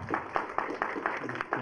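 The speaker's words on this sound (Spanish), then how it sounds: "la recibimos con un aplauso, por favor" A small audience gives a faint, sparse round of applause to welcome a speaker at a talk, with quiet, evenly spaced claps that sound somewhat distant.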